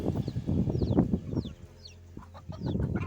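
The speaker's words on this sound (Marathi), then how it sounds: "गहू खाल्याच्या नंतर अशी मस्ती करतात कोंबडे" Free-range hens cluck and chirp in short bursts close by after eating wheat, with a few higher calls scattered through and brief quieter gaps.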